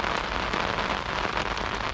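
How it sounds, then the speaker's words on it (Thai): Rain falls steadily on a kayak and water during a fishing trip on a Thai canal, a dense, even patter close by with no talking. "เดี๋ยวเจอกันใหม่หลังฝนหยุดนะครับ"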